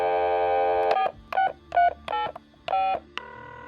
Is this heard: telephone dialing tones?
yes